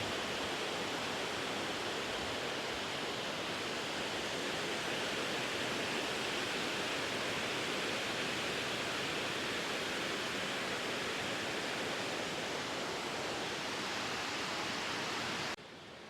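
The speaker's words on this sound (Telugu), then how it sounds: "షట్టర్స్ ఎత్తున్నాయి అన్నమాట వాటర్ బయటకు వెళ్ళడానికి" A steady, loud roar of water gushing from the opened shutters of the Yeleru reservoir dam fills the whole stretch without a break, broad and continuous like a heavy torrent pouring through gates.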